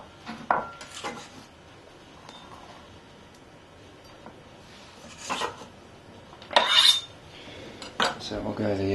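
An Al Mar Santoku knife slices on a cutting board with a few separate crisp cuts and scrapes spread out in time, close and moderately loud against a quiet background.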